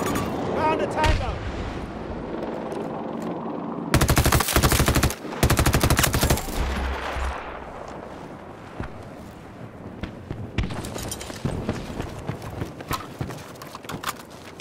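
Video game gunfire comes in loud automatic bursts, with dense volleys around the middle and scattered shots before and after, over ongoing game noise and someone talking.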